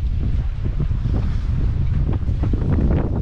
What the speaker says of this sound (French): On a 25 nœuds de vent dans les rafales là.